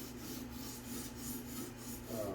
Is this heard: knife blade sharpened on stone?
yes